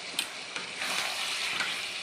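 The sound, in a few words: chicken frying and being stirred in oil with spice paste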